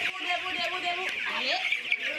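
Broiler chickens cluck and chatter continuously on a poultry farm, a dense overlapping flock sound with several nearer calls standing out against the steady background of birds.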